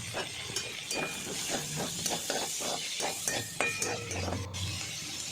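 Chopped potato, cauliflower, capsicum and onion stir-fried for chow mein, with a faint steady sizzle under rhythmic scraping and clinking of a spatula against the pan.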